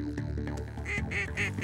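Ducks quack over harvested prairie fields and small ponds, several close, nasal calls in quick succession against a busy background.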